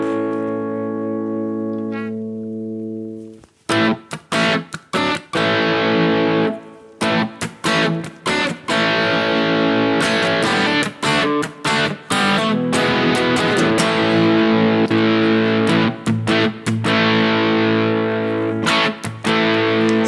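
Heavily distorted electric guitar through a Marshall JVM410H amp with gain at 9 and reverb, sustained chords and chugging strummed bursts, loud and continuous after a ringing opening chord.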